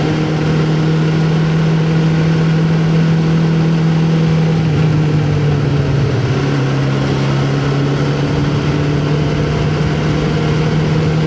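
A Suzuki GSX600F motorcycle engine, started after sitting outside, running at a steady idle with a constant close, even hum and no voices over it.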